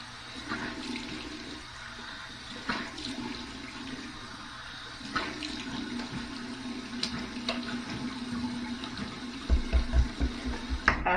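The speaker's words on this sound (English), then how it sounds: "Okay, here we go, cold water rinse." Bathroom tap running cold water for a rinse after a shave, a steady splashing rush with brief handling knocks and louder splashes near the end, no voices.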